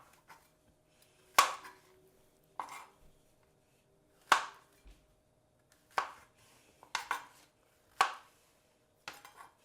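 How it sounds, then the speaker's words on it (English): Mushrooms being chopped into quarters with a knife on a cutting board at home, a sparse series of sharp, crisp thuds spaced a second or two apart, close and clear against a quiet kitchen. "I'm going to chop up my mushrooms in quarters"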